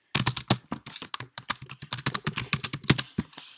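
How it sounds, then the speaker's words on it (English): Fast typing on a computer keyboard while filling in checkout details for an online sneaker order, a steady run of close, crisp key clicks over about three and a half seconds with no talking. "I want to type in all of my information"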